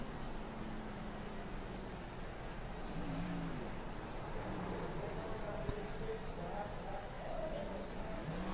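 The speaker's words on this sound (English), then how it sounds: "a little celebratory burnouts here for Jeffrey Ramsdell" A race truck in the XRL Truck Series does celebratory burnouts on a racetrack pit lane, a steady roaring engine and tire noise heard beneath continuous commentary.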